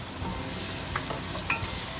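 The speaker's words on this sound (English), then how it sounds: "we're just sauteing these a little bit" Vegetables and garlic sauté in a hot pan, giving a steady, close sizzle with a few soft stirring scrapes and no talking.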